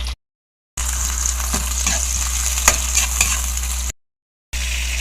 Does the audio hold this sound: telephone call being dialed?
no